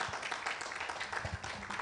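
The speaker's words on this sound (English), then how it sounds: "Let's give a more round of applause for Mr. Eric for that session." An audience claps steadily for a speaker at a data center event in Africa, a dense, even patter of many hands with no voices on top.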